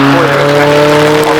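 Yellow car with spoilers accelerating up the Shelsley Walsh hill climb at Gumball 3000 2024, its engine droning loudly and close with steady harmonic tones, exhaust popping, a commentator talking over it.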